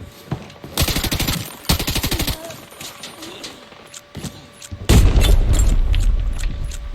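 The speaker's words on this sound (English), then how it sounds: "Holy nade. Grenade." Bursts of automatic rifle fire and a heavy grenade blast ring out during a firefight in the video game Arena Breakout, with two long volleys followed by scattered shots and a deep rumbling explosion near the end.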